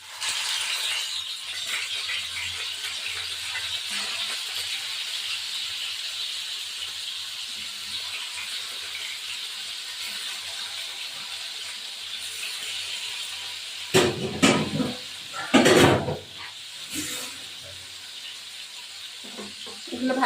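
Katla fish pieces fry in hot oil in a pan, giving a steady close sizzle and hiss that runs throughout, with a few louder clattering knocks near the end.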